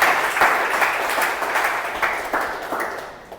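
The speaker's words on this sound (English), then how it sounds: "So a good round of applause both to the speaker and the evaluator." Audience applause at a Toastmasters club meeting, a room full of hands clapping steadily and fairly close, with a few louder bursts, lasting the whole stretch before tapering slightly at the end.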